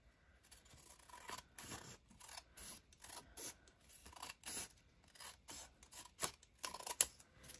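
Scissors snipping through paper while trimming craft binder edges, a steady series of short, close, crisp cuts with faint rustling between them, heard alone without talk.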